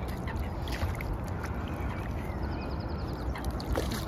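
A goose, apparently limping, gives low, repeated honking calls at close range during an early morning check, set against a steady background rumble with soft bird sounds throughout.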